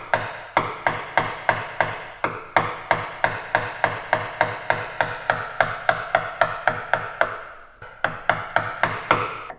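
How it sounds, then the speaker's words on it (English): Steady sharp mallet taps drive a chisel through wood along a knife line, cutting a dovetail housing joint by hand; dozens of crisp, close, evenly spaced strikes about three per second, with one brief pause near the end. "pop the chisel in the knife line like that, elevate it until I match that dovetail angle, and then just tap it through"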